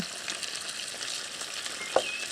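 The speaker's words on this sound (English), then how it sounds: "Give it a very quick stir." A very quick stir of smashed peas with gravy granules in a pan at a riverbank, a steady close sizzle under soft scraping, with one sharp knock near the end.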